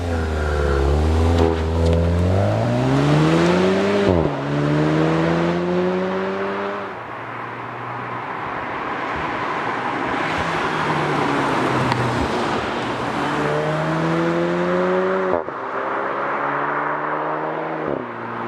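A 2025 VW GTI with 273 lb-ft of torque through front-wheel drive pulls hard through the gears from inside the cabin, engine notes rising and dropping at each shift, then settling into a steady road drone before accelerating again.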